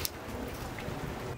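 Steady rain falls outdoors during work on riveting a patch onto a vintage Spartan Manor trailer shell, a continuous broadband patter with a faint brief tick near the start and no talking.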